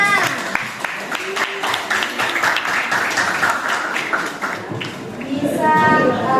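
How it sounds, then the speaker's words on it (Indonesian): Students in a mathematics classroom give scattered applause, a loose patter of claps running a few seconds while voices talk over it and then take over near the end. "Tepuk tangan buat semuanya."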